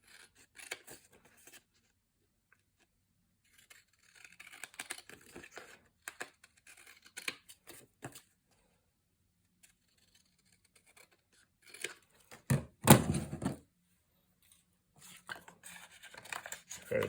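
Scissors trimming a Letters to Santa paper card down to its red border, with scattered snips and paper rustles, then a louder cluster of cuts near the end; no talking.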